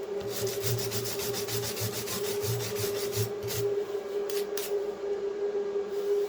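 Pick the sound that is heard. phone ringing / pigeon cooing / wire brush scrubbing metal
wire brush scrubbing metal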